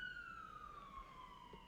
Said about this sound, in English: those sirens are still going